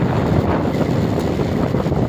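Steady wind buffets and rushes across the microphone on a mountain in Piddig, Ilocos Norte, a continuous loud roar with no other distinct sounds.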